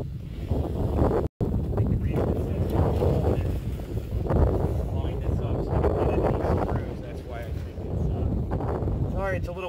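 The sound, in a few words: wind blowing outdoors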